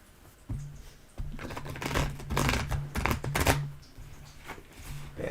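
Tarot cards are shuffled close up in soft, irregular riffles and flicks over a low steady hum, with quieter pauses between bursts.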